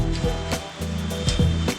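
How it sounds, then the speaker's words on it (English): Pasta sauce ingredients stir-fried in a pan, steady sizzling with repeated scraping strokes of a spatula roughly every half second, close and loud with no voices. "Now stir fry this together."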